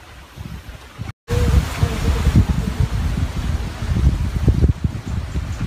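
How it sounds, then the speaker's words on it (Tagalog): Strong, gusty wind buffets the microphone outdoors, a continuous loud rumbling roar that swells and dips throughout after a brief dropout near the start. "Napakabilis po ng hangin."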